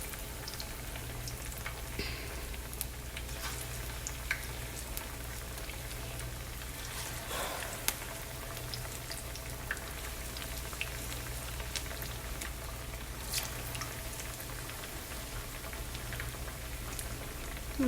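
Small plantain pieces frying in a pan of hot oil, a continuous crackling sizzle with scattered pops, steady and close throughout.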